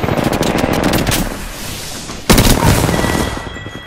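Rapid automatic gunfire in Apex Legends rattles in a fast burst, pauses briefly, then a louder sharp volley cracks out with a trailing rumble.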